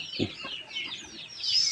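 Soft, low clucks from a mother hen come in a few short bursts, close by, with her chirping chicks and other bird calls twittering over them.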